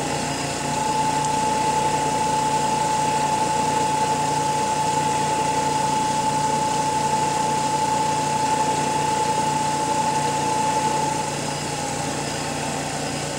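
A Brewer Science 100 spin coater ramps to 2000 RPM and holds there, giving a steady, fairly loud mechanical hum with a constant thin whine on top that runs unchanged for most of the stretch.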